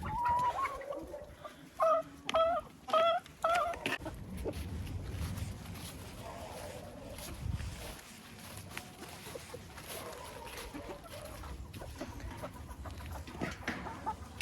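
Several chickens cluck in an outdoor farm enclosure of three-month-old American-breed chicks and young roosters, a short burst of clear clucks near the start, then scattered softer calls over rustling and background noise.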